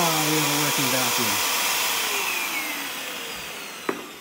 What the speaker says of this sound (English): And now I'm gonna try the vacuum.